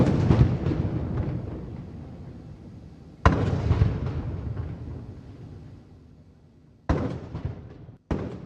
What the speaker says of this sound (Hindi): तोपों की सलामी दी गई।